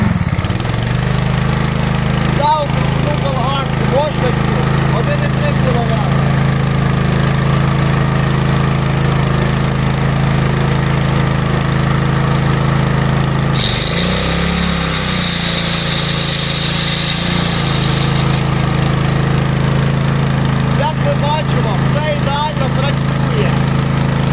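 A Zegor Din-open 3999 3.7/4 kW gas-fuelled generator runs steadily under a 2 kW load, a loud continuous engine drone with a brief change in pitch partway through, close to the microphone.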